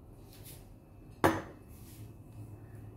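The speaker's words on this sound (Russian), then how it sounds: "Включила газ, сковородка. Заливаем яичко." A single sharp sizzle as egg is poured into a hot frying pan on a gas stove, a brief crackling burst that fades into a quiet background.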